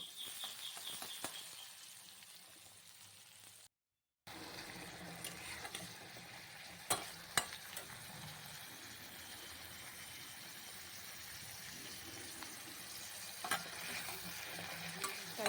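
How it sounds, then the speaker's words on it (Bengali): A pan sizzles steadily while chopped onions fry and are stirred, with scraping and clicking utensil sounds close by and a brief gap of silence early on. "পেঁয়াজটা ভালো ভালো করে ভাজা হতে থাকবে"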